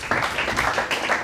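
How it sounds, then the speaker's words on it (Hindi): An audience at a lecture on meditation and mind management for medical students gives a short, steady burst of clapping. "तालियां बजाएं इनके लिए"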